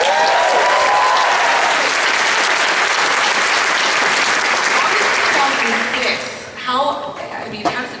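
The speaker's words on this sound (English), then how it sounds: "Let's give a round of applause." A theater audience at a post-screening panel for American Born Chinese gives loud, dense applause that fills most of the stretch, then thins and fades, with voices rising as it dies down.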